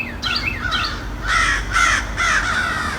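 Crows caw outdoors in response to a Haydel's crow call. A few rough calls sound at moderate distance, followed by three louder, harsher caws in a loose rhythm.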